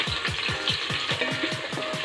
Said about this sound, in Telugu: పొడవుగా కట్ చేసుకున్న ఉల్లిపాయలు వేసాను